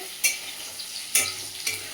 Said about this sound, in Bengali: এরকম আলু ক্যাপসিকাম পেঁয়াজ ভাজা চলছে